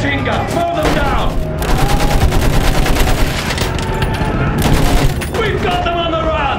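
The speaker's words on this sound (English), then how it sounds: "Use that machine gun!" Rapid machine gun fire rattles in a dense, continuous stream during a Battlefield 1 trench battle, mixed with other gunshots and shouting voices throughout.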